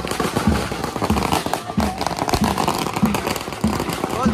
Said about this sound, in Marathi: ताशाच्या गजरात फटाक्याच्या गजरात बाप्पाचं विसर्जन होतंय